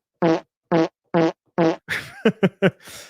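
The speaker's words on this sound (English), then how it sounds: "He needs to time the fart sound." A cartoonish fart sound effect played four times in even succession, followed by a quicker flurry of short, sputtering bursts, loud and close.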